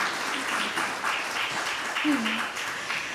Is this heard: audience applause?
yes